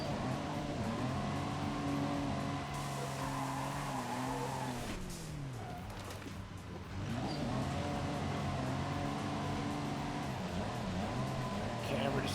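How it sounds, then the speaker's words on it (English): A drift car engine in Forza Horizon 5 revs loudly with tones that rise and fall, and tires squeal as the car slides, continuous throughout. "This is the most relaxed drift car I think I've got."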